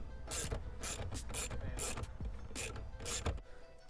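Quiet close clicking of a ratcheting tool backing out T20 Torx screws inside a BMW F10 M5 interior, in short repeated bursts with brief pauses, no voices.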